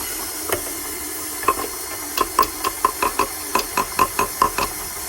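Almond flour being stirred into muffin batter in a big bowl with a fork or mixer, giving a run of repeated scraping, tapping strokes that speed up into a steady rhythm, close and fairly loud, with no talking.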